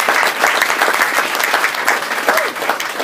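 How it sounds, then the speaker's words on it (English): Audience at a vegan festival women's panel in Adelaide applauds the speakers, steady dense clapping filling the whole stretch at close range with no pauses. "So please give a warm round of applause for our speakers so far."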